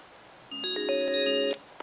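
A single electronic telephone ring with a steady tonal chime sounds clearly during a state senate hearing as a police chief is called in, ending with a faint click.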